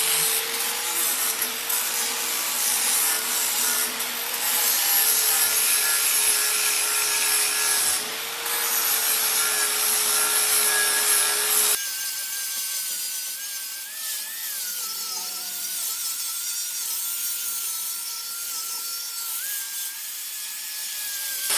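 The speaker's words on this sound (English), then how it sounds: "when I'm sanding this, I'm only sanding this lip" Sandpaper rubs steadily against a metal lip during Ford Super Duty wheel bearing and parking brake work, a close, continuous scratchy rasp with brief pauses and a change in stroke partway through.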